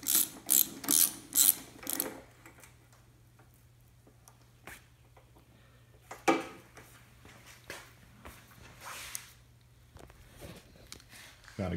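Ratchet clicks in quick bursts while bolts are tightened on the bottom end of a 360 engine build, loud at the start and sporadic after, with quieter clicking and handling noises in between.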